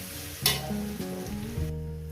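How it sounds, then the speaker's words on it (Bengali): Oil sizzles and crackles steadily as garlic fries in a pan, with a brief stirring scrape near the start. "রসুনটা আমার ভাজা হয়ে গেছে"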